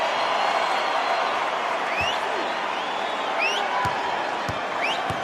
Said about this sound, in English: J.R. Smith getting a response from the crowd